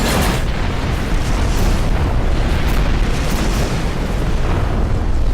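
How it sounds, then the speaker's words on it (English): Flak cannons fire without pause against incoming missiles in the space combat game Rebel Galaxy, a dense, unbroken roar of blasts and explosions that fills the whole stretch at high volume, with no talking. "I've constantly got the flat cannons firing so that the missiles won't hit me as one."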